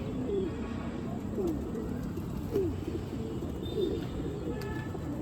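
Pigeons cooing on a rooftop in Amritsar, with soft, regular coos about once a second over steady background hiss and faint distant noise.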